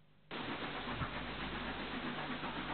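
Southern Railway locomotive No. 30841 works through the Esk Valley between Grosmont and Goathland on the North York Moors Railway, a loud, steady rumble that starts abruptly after a brief quieter moment and holds without a break.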